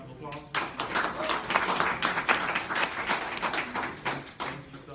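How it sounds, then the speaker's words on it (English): An audience at a general body meeting of an alumni chapter gives a steady round of applause, many hands clapping together for several seconds and fading near the end. "Let's give Ms. Melinda Ms."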